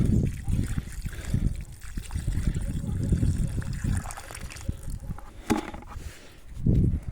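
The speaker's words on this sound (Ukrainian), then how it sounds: "додаю воду зверху, щоб земля, щоб земля гарненько всілася" Water poured onto loose soil around a newly planted grapevine, set in winter, trickling and splashing in a steady flow with brief pauses, close by, with no talk.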